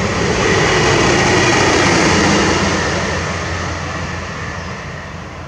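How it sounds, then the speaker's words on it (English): A train passes along a towpath trail, a broad, loud rumbling roar that holds steady and then slowly fades as it moves away. "So here comes the train."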